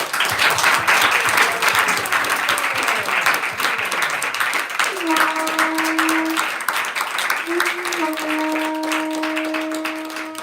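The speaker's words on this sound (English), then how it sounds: "Can we have a big round of applause" Loud audience applause fills the clip, dense clapping that gradually thins, with sustained musical tones coming in during the second half.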